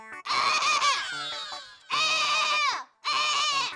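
A person's voice mimics a crow's caw that comes out sounding like a goat bleating, in three loud, wavering bursts with short pauses between them, each strained and quavering, in a sitcom scene.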